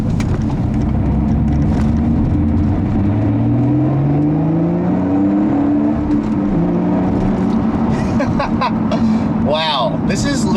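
The Toyota V6 in a 2014 Lotus Evora S revs hard on a twisty road, its pitch climbing through gears in loud, close sweeps, with a voice speaking near the end.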